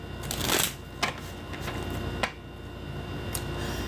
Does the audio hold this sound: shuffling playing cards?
yes